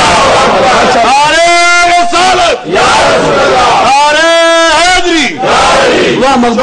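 A large crowd at a religious gathering commemorating Imam Hussain chants slogans in loud, rhythmic call-and-response bursts, with swelling unison shouts that rise, hold and fall in two waves over a noisy background.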